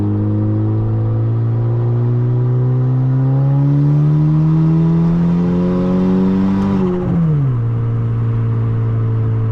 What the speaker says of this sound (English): So we're actually gonna go ahead and put it under load